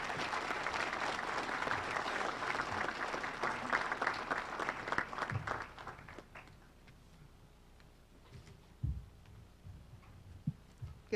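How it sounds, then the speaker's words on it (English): An audience at a BLET class graduation ceremony applauds warmly, dense sustained clapping for about six seconds that thins into a few scattered claps and quiet shuffling. "please join me in giving a warm round of applause to Chief Katrina Thompson"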